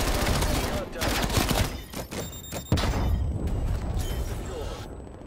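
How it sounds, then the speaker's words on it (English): Call of Duty Black Ops Cold War beta multiplayer in Combined Arms Moshpit mode: loud, dense bursts of automatic gunfire and heavy thumps, nearly continuous, with a voice talking over the action. "Okay, so they're shooting down there."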